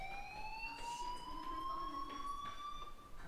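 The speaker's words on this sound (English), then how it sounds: "Hey, do you hear that fire alarm? That means you should be outside." A fire alarm in the video game Life is Strange wails as a steady rising electronic siren tone, faint and continuous throughout with no talking.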